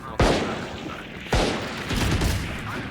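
Sniper rifle shots in the video game Valorant, two loud sharp cracks about a second apart, each with a booming tail, amid busy game sounds.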